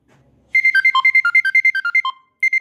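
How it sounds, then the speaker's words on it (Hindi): Ride request ringtone of the Joylus driver app, a rapid melodic sequence of bright electronic beeps that plays loud and close for about two seconds, breaks off briefly, then starts again after near silence. "अब यहाँ पर देखिए हमारे पास में एक राइड आ गई है और इस तरीके से रिंगटोन हमारी बज रही है"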